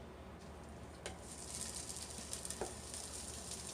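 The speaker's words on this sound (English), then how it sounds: "I have my pan getting hot. I'm going to add in my sausage." Sausage fries in a hot non-stick pan with no oil, a faint, steady hiss of sizzling that thickens as it goes on, with a few soft pops and light taps.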